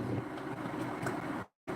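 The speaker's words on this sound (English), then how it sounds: "That noise you hear, that's my kettle." Steady broadband rushing roar, like water heating to a boil in a kettle, continuous and fairly close, with a brief dropout near the end.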